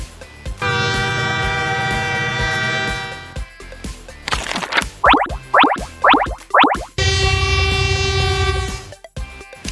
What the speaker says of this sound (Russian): Отлично, это снегоуборочный поезд.